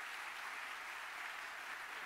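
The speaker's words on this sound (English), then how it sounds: "I have to ask you for an extra applause" Faint, steady applause from a conference audience at a lightning-talks session, a continuous wash of clapping heard from a distance with no voices over it.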